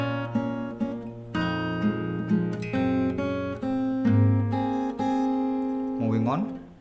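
Fingerstyle acoustic guitar playing a song: steady plucked melody notes over sustained bass, ringing clearly and closely, ending with a short sliding bend, with no voice.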